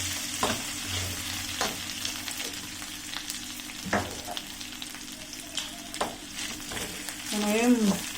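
Chopped chillies and capsicum frying in hot oil for gobi chilli, a steady close sizzle with occasional sharp stirring scrapes in the pan, and a voice talking briefly near the end.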